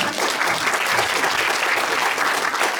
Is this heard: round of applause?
yes